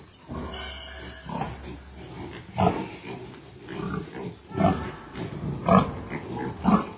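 Pigs being moved around a farm pen give repeated grunts and short squealing bursts, some loud and close, over a constant low rumble and scuffling.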